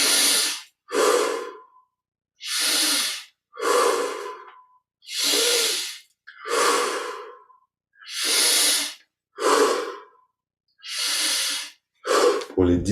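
Slow, deep breaths during a guided Kriya Yoga meditation, about a dozen distinct airy inhales and exhales in an even rhythm with short silent pauses between them, close and clear with no talk.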